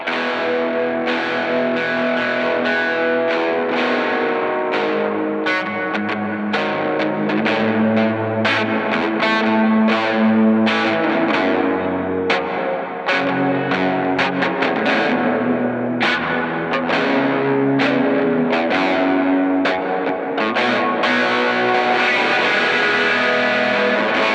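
Heavily effected Martin D-28E acoustic guitar strumming, washed in reverb with a gritty distorted edge, playing steadily and loudly throughout.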